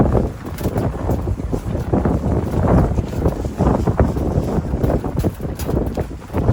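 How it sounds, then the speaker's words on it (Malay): Strong wind whips across a seaside campsite, a loud, continuous roaring rush that buffets the microphone in rough gusts throughout, with no talking. "Tiba-tiba angin datang kuat sangat sampai tercabut flysheet."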